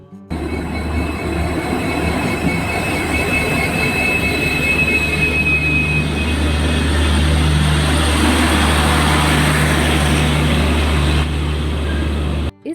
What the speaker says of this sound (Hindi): हमें चेन्नई जाने की ट्रेन पकड़नी है